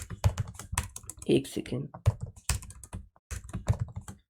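Rapid clattering keystrokes on a computer keyboard come in quick bursts close to the microphone, with someone speaking briefly between them.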